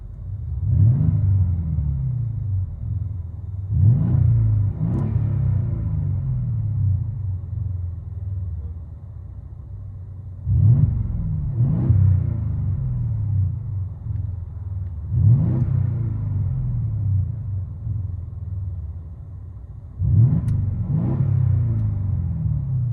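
A 2013 Mercedes S550 5.5-litre twin-turbo V8 with a muffler delete revs hard in repeated bursts, each swelling into a deep rumbling roar before settling back to idle, heard from inside the cabin.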